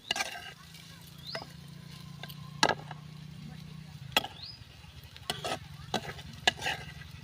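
A sweet corn and onion mixture with gram flour sautéed in a pan over a village wood-fired stove; soft sizzling under sharp spatula scrapes and clinks, with someone speaking.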